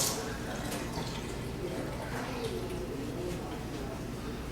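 Tap water running over hands at a kitchen sink, a continuous splashing flow with occasional drips, close and steady with no talk.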